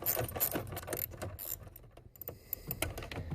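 A 9/32 bolt being removed from a panel on a 1982-1992 third-generation Camaro, heard as a close run of rapid ratcheting clicks in uneven bursts with brief pauses, no voices.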